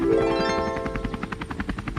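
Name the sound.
helicopter flying overhead, cartoon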